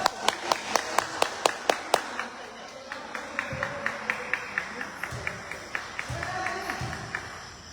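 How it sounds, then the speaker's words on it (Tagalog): At a summer league basketball game, a crowd claps for a long stretch, opening with loud, evenly spaced individual claps that settle into softer, steady rhythmic clapping beneath murmuring voices and arena noise. "Haba ng palakpak na yun ah."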